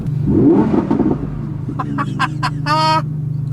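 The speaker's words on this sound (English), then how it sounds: "it's got that Huracan V10 sound because they share the exact same engine" An Audi R8 V10 Plus engine, the same V10 as the Lamborghini Huracan, revs loudly up close, rising in short sharp bursts over a steady idling rumble.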